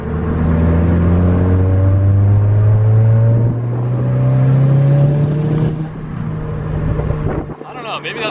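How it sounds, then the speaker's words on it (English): An MK6R car fitted with a big turbo accelerates in third gear, its engine note rising steadily and loudly with wind noise over the microphone, then dropping off as the pull ends, while someone talks. "It seems to be spooling really slowly again. Like, watch. Third gear."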